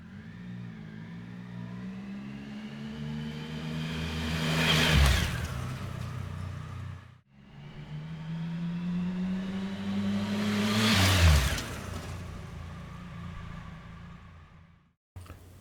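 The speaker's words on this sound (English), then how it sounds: "a quick pass-by with my motorcycle in two different microphone configurations" Two separate motorcycle pass-bys recorded with sE6160 microphones, each engine rising as it approaches, peaking loudly, then dropping in pitch as it fades away; no talking.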